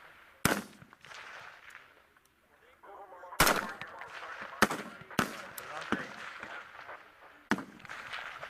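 Rifle fire on a Marine Corps recruit training range, with sharp isolated shots spaced irregularly over quiet range noise and faint voices in between.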